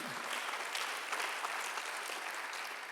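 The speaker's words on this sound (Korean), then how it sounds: "박수하고 있어요" A church congregation at a Sunday worship service claps together in a soft, even wash of applause. It sounds fairly distant and steady, and no voices rise over it.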